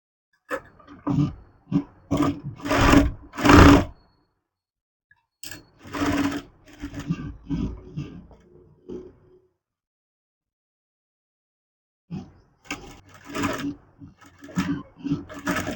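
A sewing machine stitches a kids' frock in several short close bursts of rapid needle chatter, separated by pauses and a long quiet gap before it resumes.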